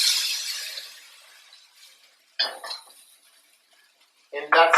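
A plate set down and handled in a kitchen while cooking lomo saltado beside a hot wok, heard as two short clattering bursts of ceramic and utensils, near and fairly loud, separated by quiet.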